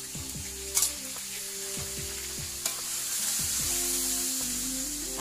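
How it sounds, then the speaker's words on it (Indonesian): Shallots sizzle and crackle steadily as they fry in hot oil for a spicy anchovy and tempeh balado, with a couple of brief clatters of stirring; close and continuous, no talking. "Kemudian goreng bawang merahnya sampai garing."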